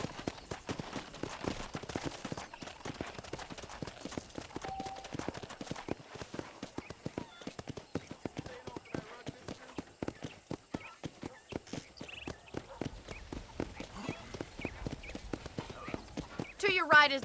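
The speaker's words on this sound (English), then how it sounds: "let's see if you can still ride a horse" Horse hooves clip-clopping at a steady walking rhythm while riding around a ranch in the video game Red Dead Redemption, with the regular beat running throughout under intermittent game speech and background ambience.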